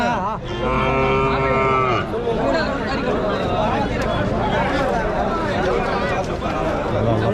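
Native cattle at a bustling outdoor market, with one cow giving a drawn-out moo near the start amid constant crowd chatter and nearby talk.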